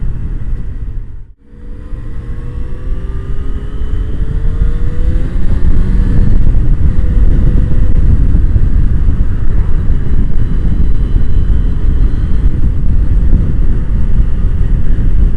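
Yamaha XJ6F motorcycle riding at speed, a loud constant rush of wind buffeting the microphone over a low engine drone, building after a brief dip near the start and holding steady.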